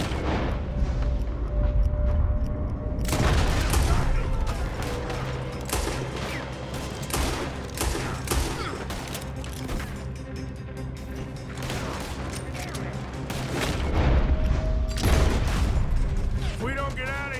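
Gunfire in the Western video game Red Dead Redemption 2 makes repeated loud shots and booming blasts amid a busy, noisy game scene, with voices talking over the shooting throughout.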